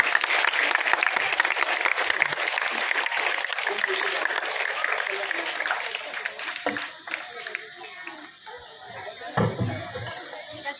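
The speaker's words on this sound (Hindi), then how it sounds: "जोरदार तालियां इस बच्ची के लिए" Loud, sustained applause from a crowd of many hands at a school farewell ceremony, continuing for several seconds before thinning out, with a few scattered claps and noises near the end.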